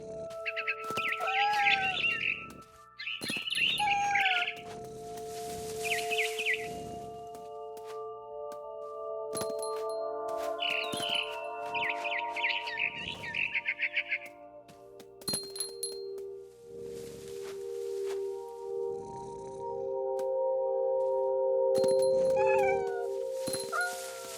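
Cat meows and frightened bird chirps from the video game What Remains of Edith Finch, with repeated bursts of chirping over a sustained tonal game soundtrack, loud and close throughout.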